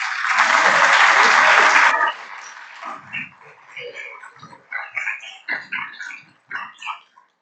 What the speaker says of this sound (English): Let's give her a rip-roaring applause and welcome to the Rotary.